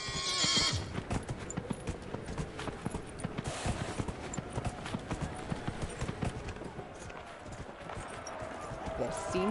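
Horse hooves clip-clop in a steady rhythm with a whinny, fairly close, while a person talks affectionately over the sounds.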